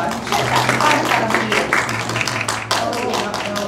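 Audience applause at a live evening show, a dense burst of clapping from many hands close by, with a voice talking over it and a steady hum underneath.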